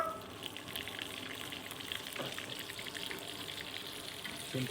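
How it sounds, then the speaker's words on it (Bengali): Shrimp frying in fresh oil for mixed fried rice, a soft continuous sizzle with light stirring clatter and a brief scrape near the end, close but faint. "চিংড়িটা দেখুন একদম ফ্রেশ তেলে ভাজা হলো"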